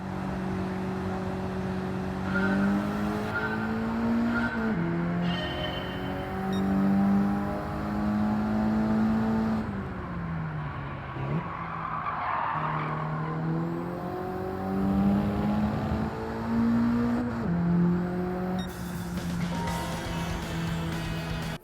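Engine of a four-wheel-drive car in Gran Turismo 7 revving and rising in pitch as it accelerates out of corners, with repeated gear shifts and brief lifts, steady and loud throughout with no talk.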